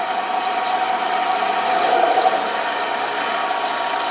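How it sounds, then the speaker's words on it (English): A mini lathe takes a light finishing cut on a small metal part, a steady, loud mechanical whir with a constant tone and no breaks throughout. "I'm taking off about 10 thousandths now. I'm getting a smoother cut because it's doing less work."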